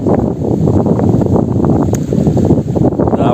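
Strong wind buffeting the microphone on a sandy beach, a loud, continuous rumbling roar with gusty fluctuations and no voices.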